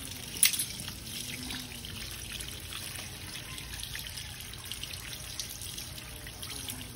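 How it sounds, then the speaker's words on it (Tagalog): Boiled food being rinsed under a running kitchen tap, a steady close stream of water splashing into a sink for the whole stretch, with one brief knock near the start and no talk. "hugasan pa natin siya para mawala yung kanyang alat"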